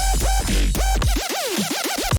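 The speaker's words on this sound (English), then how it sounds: "Yeah, those little trap lasers." Trap laser synths from the second drop of a song, remade in Serum: rapid zapping pitch sweeps diving and rising over a heavy sustained bass, loud and dense throughout.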